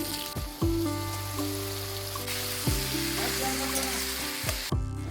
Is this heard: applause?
no